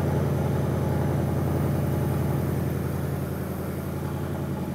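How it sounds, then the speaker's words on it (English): Car engine running steadily at idle after starting, a continuous low mechanical hum with a faint rhythmic pulse, close and even, with no talking. "So he has to start the vehicle and he has to get the rear wheels rolling."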